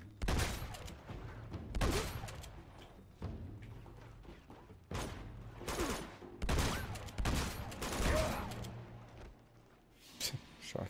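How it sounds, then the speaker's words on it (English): Shotgun blasts in Uncharted 2: Among Thieves, a string of heavy booming shots a second or two apart amid a noisy firefight, fairly close, with other impacts and thuds between. "Shotgun does the job sometimes."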